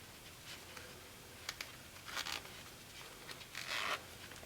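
Quiet, close-up zipper sounds from a low-profile zipper on a Bose QC2/QC15 headphone headband come in short scratchy bursts, with a longer zip near the end, against near silence.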